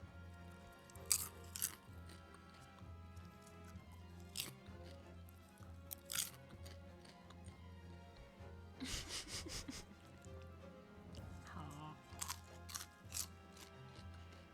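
Someone eating crisp chips, producing irregular close crunches and bites, including a dense burst of crunching, over constant background game music.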